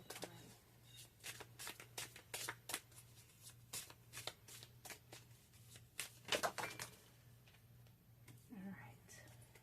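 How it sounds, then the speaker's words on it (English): Tarot cards are shuffled in a rapid run of crisp riffles and soft slides, close and quiet, with a few brief pauses between bursts. "Let's get one more tarot card."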